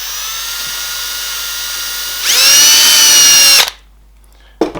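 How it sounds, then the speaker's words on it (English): A power drill boring through a pre-drilled hole in a car door card: the motor whines steadily, then jumps louder and higher as it bites, cuts off abruptly, and gives one short final burst. "Just get my drill."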